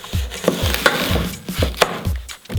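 A knife chops purple onion finely on a cutting board in a home kitchen, with about eight sharp, evenly spaced knocks close up, nobody talking.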